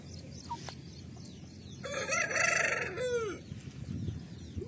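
Free-range farm chickens, native country hens and roosters, cluck close by before a loud rooster crow rings out in the middle, followed by more scattered clucking.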